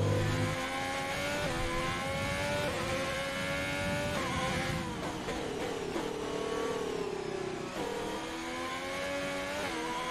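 Formula 1 race car engine in the F1 2020 video game, a loud, steady high-revving whine held throughout with gear shifts and pitch swoops, no talking.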